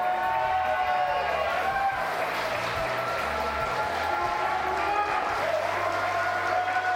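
A studio audience at a TV sports talk show applauds and cheers in a steady, dense wash of clapping that continues without a break, with a voice speaking over it.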